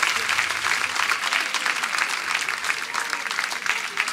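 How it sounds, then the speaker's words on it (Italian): Festival audience applauding in a steady, dense wash of clapping from a sizable crowd, sustained and even for the whole stretch. "Facciamo ancora un applauso a Rino Puleo."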